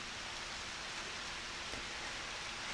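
Steady soft rain falling in the PlayStation farming game Harvest Moon Back to Nature, a continuous even hiss with faint patters, alone and quiet throughout.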